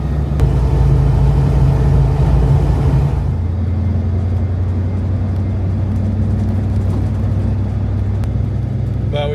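A car driving down a dirt road toward hot springs through open rangeland, heard from inside as a steady low engine rumble and road noise, fairly loud and continuous, with a brief shift in tone early on.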